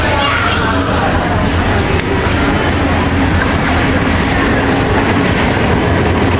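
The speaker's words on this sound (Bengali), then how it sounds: "অনেকক্ষণ ওয়েট করার পরে চলে এলো ট্রেন।" A local train rolls into Dewanganj railway station in Bangladesh, a loud, steady rumble of wheels and carriages with faint clickety-clack, continuous for the whole stretch with the crowd's babble mixed underneath.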